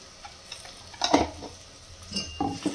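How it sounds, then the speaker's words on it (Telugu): Ginger garlic paste frying lightly in hot oil in a pan, with soft sizzling, a few close stirring scrapes and light clinks of a utensil against the pan over a few seconds. "అల్లం వెల్లిగడ్డ కూడా కొంచెం నూనెలో లైట్గా ఇట్లాగా ఫ్రై అవ్వగానే"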